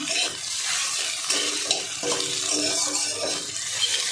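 Eggs sizzle steadily in a pan as they fry for an egg bhujia curry, with a continuous bright crackle and occasional soft stirring scrapes close by.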